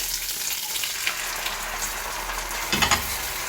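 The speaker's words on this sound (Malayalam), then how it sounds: "അതൊക്കെ മുരിഞ്ഞ് വന്നിട്ട് കറിവേപ്പില, പച്ചമുളക് ഇട്ടേക്കാം." Curry leaves and green chillies fry in hot oil, a continuous close sizzle and crackle that holds steady, then a sharper burst of spattering near the end.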